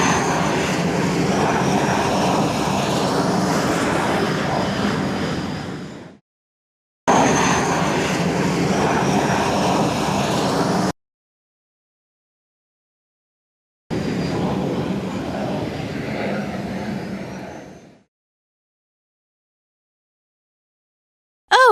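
Loud, steady roar of an aeroplane engine in three long stretches separated by abrupt silences, with the final stretch fading away.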